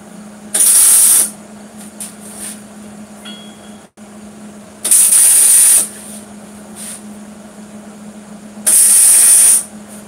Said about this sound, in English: Whenever you're tacking something up, you want to move fairly quick